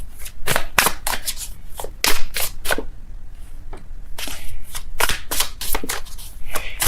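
Tarot cards are shuffled by hand in quick, crisp riffles and flicks, a dense run of papery snaps heard close up.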